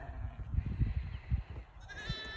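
Sheep on a farm during lambing season bleat in a cluster of overlapping calls, close and fairly loud, with a higher lamb-like cry near the end.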